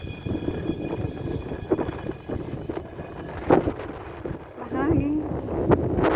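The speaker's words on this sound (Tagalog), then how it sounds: "Mahangin." Wind buffets the microphone on an Amsterdam street on Christmas Eve, with uneven rushing gusts and low thumps rising and falling over faint background sounds.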